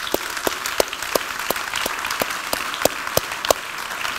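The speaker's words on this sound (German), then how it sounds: "empfangen Sie diese jungen Leute mit einem tosenden Applaus" An audience at a banking-day graduation ceremony applauds the graduates, a full, continuous wash of clapping with a few sharp, louder claps standing out close by.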